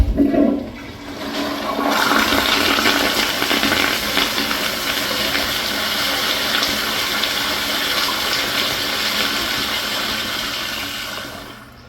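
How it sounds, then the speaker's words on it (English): A Kohler Highcrest 1.6 gallon toilet flushes straight down with a sudden loud rush of water, then a steady hiss and gurgle as the bowl refills, fading near the end, with no voices. "The flush is nothing special. It's a pretty standard straight down flush"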